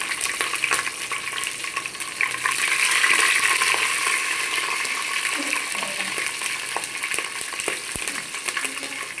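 Mint leaves and green chillies fry in a pan for bagara rice, making a loud, steady hissing sizzle that swells briefly and then holds, with faint stirring taps.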